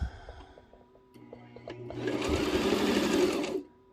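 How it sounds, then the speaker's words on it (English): A sewing machine stitching fabric for a corner ball pit hammock, a rapid whirring buzz rising to a steady loud run for about two seconds before stopping, preceded by softer clicks and mechanical taps. "Didn't think I could sew one-handed, but I did it."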